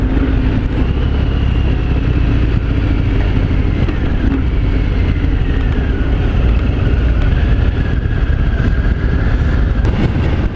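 A 2018 Harley-Davidson Fat Bob motorcycle out on a test ride, its engine droning loud and steady throughout with a dense, continuous rumble and wind rush, no voices over it.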